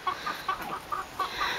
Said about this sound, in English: My duckies and my one lone chicken.